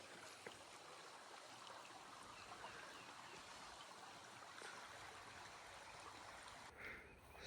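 A clear mountain spring stream at a farm on a quiet morning, flowing in a steady, soft broadband wash that holds evenly from start to finish with no voices.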